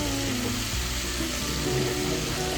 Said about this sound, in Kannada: ಇವಾಗ ಇದು ಸ್ವಲ್ಪ ಸಾಫ್ಟ್ ಹೋಗ್ತಾ ಫ್ರೈ ಆಗಿತ್ತು.